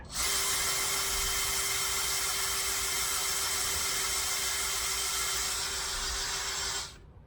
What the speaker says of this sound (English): using my brand spanking new DeWalt 18-volt brushless, cordless, whatever drill